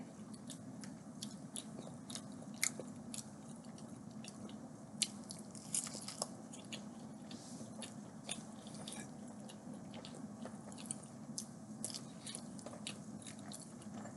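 Pancakes and eggs are eaten close to the microphone, with a steady run of soft wet chewing, squishes and small bites over quiet background hum and no talking.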